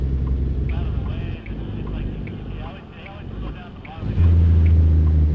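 Stock SCS truck engine in American Truck Simulator, a steady low diesel drone running throughout, dipping mid-clip then swelling louder near the end as the engine pulls harder, with someone talking over it.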